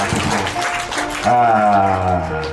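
A church congregation claps briefly for Jesus, a short burst of applause over a preacher's amplified voice, which keeps talking and then shouts on top of it.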